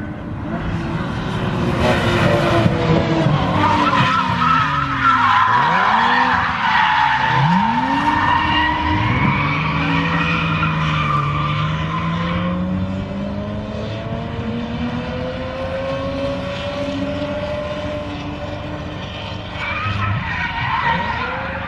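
Two cars drift around the Snetterton 100 circuit, engines revving and rising and falling in pitch with long tyre squeals, loud and close, sweeping past for around twenty seconds.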